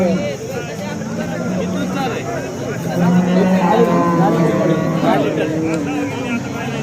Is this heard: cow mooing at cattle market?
yes